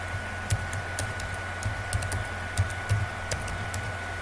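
Typing on a computer keyboard gives scattered, light key clicks in an irregular rhythm over a steady background hum, fairly close and with no talking.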